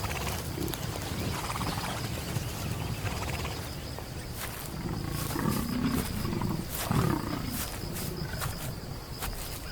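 Lions in Kenya's Masai Mara reserve roaring amid wild outdoor ambience, several deep roars swelling in the middle of the stretch over a constant background hiss.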